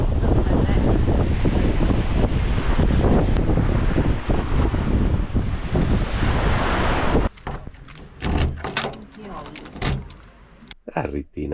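Strong wind gusts across a kitesurfing beach, loud buffeting roar with surf for about seven seconds, then a drop to quieter, choppier wind noise with intermittent bursts.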